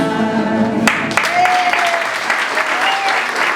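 A year-end guitar course recital ends as the audience bursts into warm applause for the students, clapping starting abruptly after a sung phrase and continuing steadily, with a few voices and cheers rising over it.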